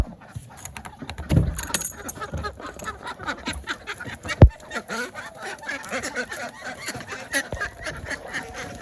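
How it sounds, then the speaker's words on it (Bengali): Domestic ducks let out of their pen in the morning quack and honk in bursts at close range, mixed with clattering and jangling knocks from a heavy door. "সকালবেলায় তো আমি হাঁসগুলা ছেড়ে দেব"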